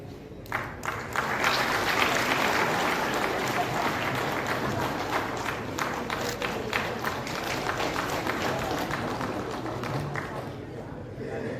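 An audience applauds at a regional official-language conference and award ceremony in Bhubaneswar, with sustained, dense clapping that holds for about eleven seconds and tapers slightly toward the end.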